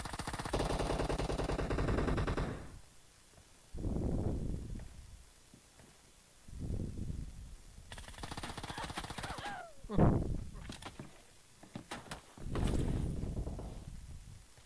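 Video-game gunfire comes in several sharp, loud bursts separated by short quiet gaps, like rapid volleys of shots.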